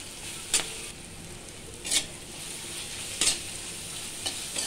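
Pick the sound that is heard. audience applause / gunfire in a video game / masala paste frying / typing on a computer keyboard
masala paste frying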